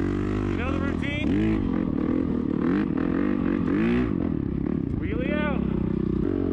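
Dirt bike engine revving hard on the Glamis sand dunes, up close and loud throughout, rising and falling in repeated throttle swells. A voice talks over the engine noise.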